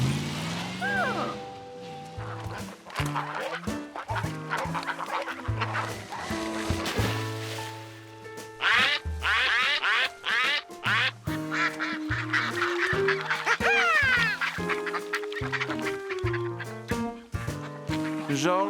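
Cartoon ducks quack repeatedly on a river at a farm, busy and layered over music and other effects, with voices talking at points.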